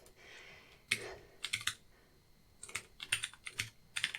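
Typing on a computer keyboard while building a bullet journal page in Notion, close clicks arriving in short irregular bursts with brief pauses between, fairly quiet, and no voices.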